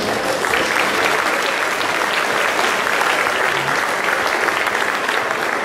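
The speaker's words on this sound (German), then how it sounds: "Leute werden hier klatschen." An audience in a sports hall applauds at the opening of a German Boogie-Woogie dance championship, loud continuous clapping from many hands that stays full and even throughout.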